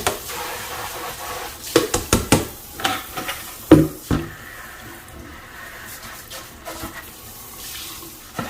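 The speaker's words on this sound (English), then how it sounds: "after we sterilize everything, we just give it a good quick rinse" Water running from a tap to rinse sterilized winemaking buckets and equipment, a steady splashing flow broken by several sharp knocks and clatters of plastic gear.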